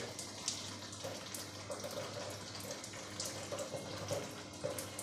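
A steady, fairly quiet stream of water running from an RO water purifier tap, with faint splashing and dripping.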